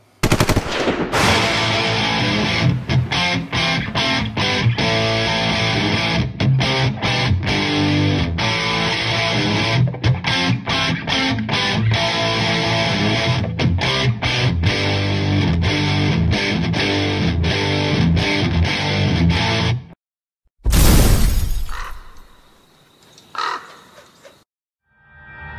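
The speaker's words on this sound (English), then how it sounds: "we check out the Digitech Death Metal Distortion Pedal." Heavily distorted electric guitar played through a Digitech Death Metal Distortion pedal, loud dense chugging riffs with rapid staccato palm-muted bursts for about twenty seconds, then a cut and a brief ringing feedback tail that fades out.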